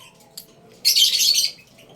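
African lovebirds in an aviary give a brief chirp, then a loud, harsh burst of chatter lasting about half a second, close by and without speech.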